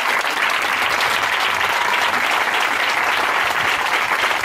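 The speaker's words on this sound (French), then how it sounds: "Lève-toi, acclame puissamment Jésus de Nazareth." A church congregation at a Sunday service applauds loudly and continuously, a thick, even wash of many hands clapping together without pause.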